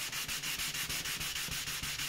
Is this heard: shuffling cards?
no